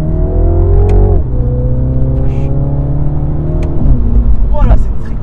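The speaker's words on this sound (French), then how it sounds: "on va vous filmer une petite accélération du véhicule" A MINI John Cooper Works with a 231 hp four-cylinder engine accelerates hard nearby, its loud rising drone stepping through gear changes with brief dips between pulls.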